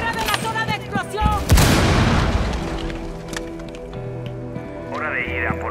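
Explosions and gunfire in the video game Rainbow Six: a heavy booming blast swells and rumbles out, with sharp shots, pops and whistling game effects around it, loud and close.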